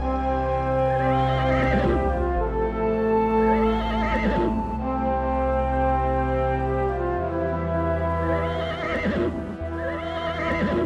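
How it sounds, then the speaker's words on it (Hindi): Many cartoon horses whinny and neigh repeatedly over steady clip-clopping hooves, loud and continuous throughout with no talking. "अरे इतने सारे घोड़े किसके हैं?"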